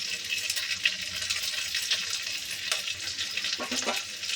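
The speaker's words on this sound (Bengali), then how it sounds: "দিয়ে দিলাম পেঁয়াজ কুচি, লঙ্কাগুলোও দিয়ে দিলাম।" Chopped onion and chillies fry in a pan with a steady close sizzle, broken by a few scraping stirs and light clinks, with no voices.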